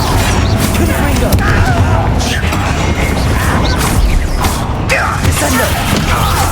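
Spell combat in Hogwarts Legacy, with a Confringo blasting spell set off among other attack spells, giving a dense run of booming, crashing impacts over a steady loud wash of noise while a voice shouts spell names.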